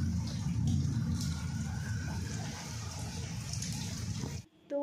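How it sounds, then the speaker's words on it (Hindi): Light rain falls steadily outside, with water seeping in through the windows, making an even, close hiss that stops abruptly near the end. "अभी भी आ रही है बारिश, तेज़ नहीं है बट आ रही है अभी भी बारिश।"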